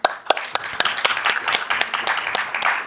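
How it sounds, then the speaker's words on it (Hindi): Applause from an audience at a stage event for poetry and music, a steady patter of claps with sharper individual hits, fairly close and sustained throughout. "जोरदार तालियां"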